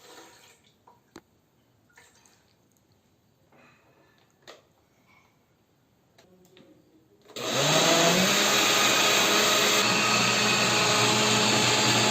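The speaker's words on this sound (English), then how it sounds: "put the condensed milk, the cream, and the half a cup of milk in the blender. Very important, liquefy at low speed." A kitchen blender starts after a quiet stretch of small clinks and handling, then runs loud and steady at low speed, whirring as it liquefies condensed milk, cream and milk for a lemon dessert.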